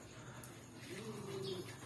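Domestic pigeons cooing at a loft, a soft low murmuring coo rising in the second half over steady background noise.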